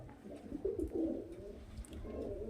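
Murshidabadi giribaz pigeons cooing close by, with soft, low, throaty rolling coos repeating over a faint background hum.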